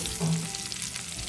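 Bitter gourd pieces frying in a pan give a steady, close sizzle with a brief louder hiss, and no voices.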